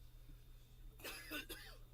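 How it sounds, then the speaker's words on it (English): A short burst of two or three harsh coughs, close to the microphone, after a quiet moment with low hum. "Why are you coughing like that?"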